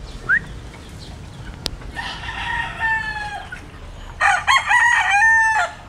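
Chickens cluck and a rooster crows at feeding time on a small farm, with two loud crowing calls close by over soft background clucking and rustle, no talk.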